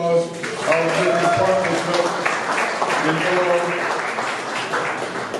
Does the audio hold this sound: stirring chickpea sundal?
no